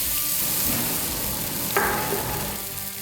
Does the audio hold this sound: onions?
yes